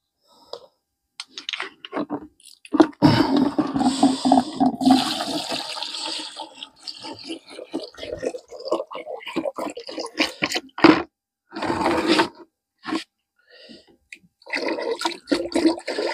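Copper sulfate solution and lime water are poured together into a third vessel to make Bordeaux mixture, giving bursts of close splashing and trickling liquid with short pauses between pours.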